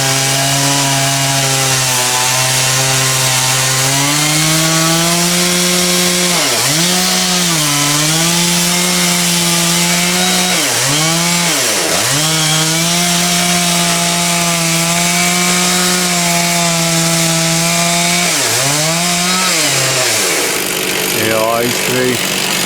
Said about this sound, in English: It's still not easiest to cut through though, is it? I don't know if it's just the saw's blunt